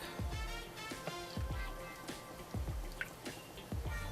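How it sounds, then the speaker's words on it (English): Yogurt and banana soap batter gently stirred in a container, giving soft wet squishes and drippy plops at a slow, uneven rhythm, close and faint. "So I'm just gently stirring my yogurt and banana soap."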